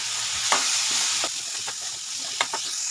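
Onion and chana dal frying in hot oil give a steady, close sizzle, broken by a few sharp scrapes and clinks as the mixture is stirred in the pan.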